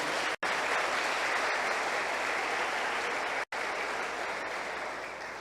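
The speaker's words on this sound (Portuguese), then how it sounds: "Vamos aplaudir isso em nome de Jesus." A church congregation applauds steadily, a dense wash of clapping that carries on with no pause for about five seconds and fades slightly toward the end. Two brief dropouts break the sound.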